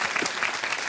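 A brief burst of audience applause at a Picardie cooking segment, dense and fairly loud clapping from many hands lasting under a second.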